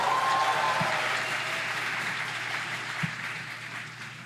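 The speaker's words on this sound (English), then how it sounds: "Please give a round of Georgetown applause" An audience applauds at a university address event at Georgetown University, sustained, moderately loud clapping from a large crowd with a couple of louder thumps.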